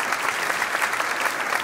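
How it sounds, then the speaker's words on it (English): Audience applause at a Bible knowledge quiz event, a steady dense wash of clapping from a crowd throughout, fairly loud and unbroken. "Anybody want to clap for me for saying those words right?"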